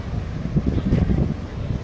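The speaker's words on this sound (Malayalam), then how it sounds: "നല്ല കാറ്റടിച്ച് തുടങ്ങി" Strong evening wind gusts in Kerala buffet the microphone in a rough, low roar, with a faint voice underneath.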